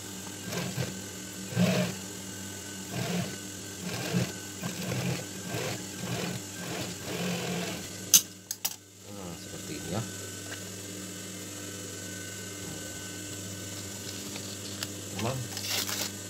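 Sewing machine stitching the visor of a hat remade from another hat, running in repeated short bursts with pauses, close and steady, while a person talks over it.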